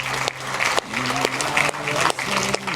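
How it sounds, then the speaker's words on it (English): Church congregation applauding at a community meeting, a continuous close patter of many hands clapping while a voice speaks over it throughout. "Can we clap for the first 40?"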